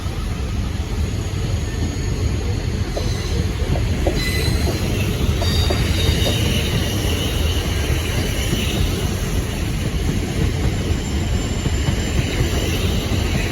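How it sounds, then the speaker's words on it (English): A pair of SWR Class 450 electric multiple units departs toward Waterloo, giving a loud, steady roar of rolling wheels and traction with faint squeals throughout, close and continuous, in the Battersea Park, Clapham Junction and Queenstown Road area. "Parting now is this pair of SWR 450s bound for Waterloo."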